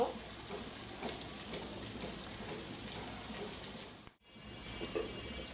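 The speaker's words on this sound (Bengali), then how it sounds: "যে বাদামি কইরা আমি ভাজিয়া নিব" Onions frying in oil until brown for a potato and beef curry, a steady close sizzle and crackle running continuously, briefly cutting out near the end before resuming.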